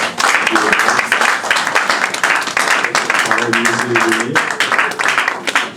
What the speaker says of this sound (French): Applaudissons pour Dieu.